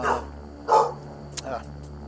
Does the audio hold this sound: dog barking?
yes